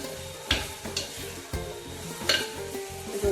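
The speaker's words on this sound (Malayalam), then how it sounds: "നന്നായിട്ട് ആ മഞ്ഞൾപ്പൊടി ഉപ്പും ഒക്കെ ചേനയിലും ഉള്ളിയിലൊക്കെ പിടിക്കുന്ന രീതിയിൽ നന്നായിട്ട് ഇളക്കി കൊടുക്കണം." Elephant foot yam and onion with turmeric and salt being stirred in hot frying oil, sizzling under repeated scraping stir strokes at a quick, uneven rhythm, close and fairly loud.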